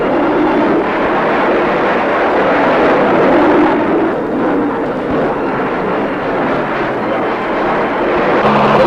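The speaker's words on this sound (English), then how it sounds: "Using the position-marking rockets of the helicopter as a guide, the Air Force jets dart in with their heavy ordnance" Air Force jets and helicopter gunships attack in the Vietnam War, a continuous loud roar of aircraft engines and heavy rumbling that holds steady throughout without pause.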